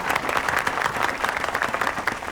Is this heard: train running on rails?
no